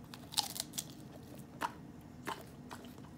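A dog bites and chews crunchy lettuce up close, producing several sharp crisp crunches at uneven intervals with quieter gaps between, no talking.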